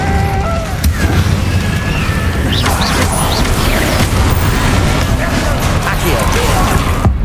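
Incendio fire spells and other spell bursts in the Hogwarts Legacy video game, a loud sustained din of whooshing flames, booms and crackles through a chaotic battle, with shouted incantations over it.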